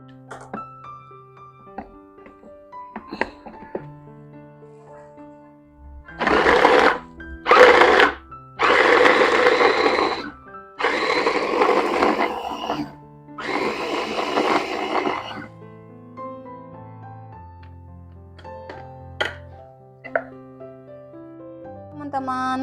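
Kitchen blender grinding ingredients with a little water, a loud close whirring roar in several bursts of a few seconds each, with quieter gaps between them.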